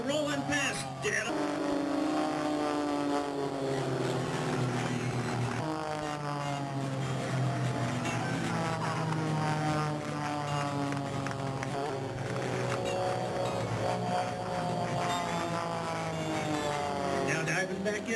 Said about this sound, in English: this aircraft is a highly modified version of the Christian Eagle 2 kit that's commercially available